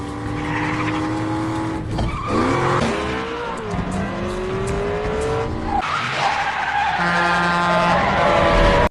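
Cars in an action-film chase roar and screech, tires squealing in long skids between bursts of engine revving, loud and close with crashing transitions and no talk.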